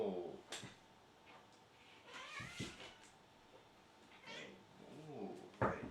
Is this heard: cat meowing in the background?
yes